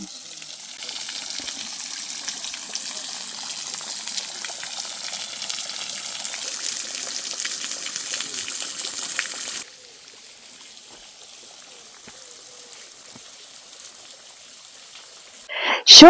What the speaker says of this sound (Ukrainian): поки насолоджуємось ось таким красивим водоспадом дівочі сльози